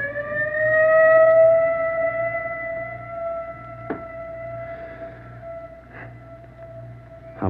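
An ambulance siren wails in a long, steady, slowly falling tone, fairly close and moderately loud, with a couple of brief knocks partway through and no talking.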